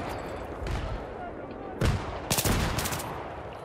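Gunfire from a Battlefield 3 team deathmatch on Noshahr Canals: a few scattered distant shots, then a loud close shot and a quick burst of rapid rifle fire, with a voice talking over the battle.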